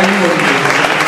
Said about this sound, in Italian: Un applauso a Marzio